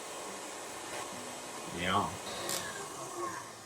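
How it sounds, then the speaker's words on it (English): An electric mixer whips egg whites during kitchen prep for a Christmas party, giving a steady, fairly loud whir that runs throughout, with a brief spoken word partway through. "We are going to pour in all of the egg whites, and then we're gonna whip the shit out of it."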